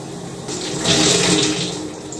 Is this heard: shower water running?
yes